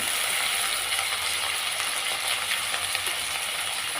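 Eggplant pieces with plenty of garlic and a little onion sautéing in a pan, giving a steady, dense sizzle and crackle that stays close and even throughout, with no talking.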